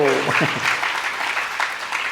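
Audience clapping at a religious discourse in Surat, a brief burst of dense applause that carries on under a voice.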